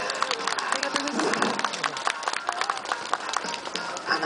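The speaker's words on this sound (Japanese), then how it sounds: "皆さん決めたら大きな拍手でお願いします。" An audience claps after a spinning trick in a street or stage performance, a moderate round of scattered applause with a performer talking over it.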